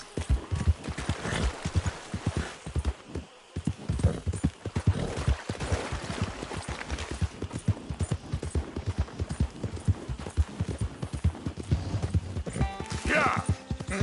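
A horse gallops in Red Dead Redemption 2, its rapid rhythmic hoofbeats loud and near and continuing throughout, with a neigh near the end and voices talking over it.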